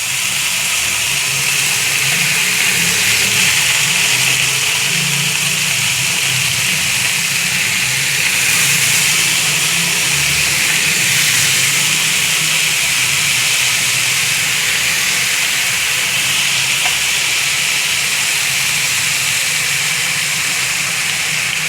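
Beef green masala kababs fry in a pan over a medium flame, giving a loud, steady sizzling hiss that continues unbroken throughout.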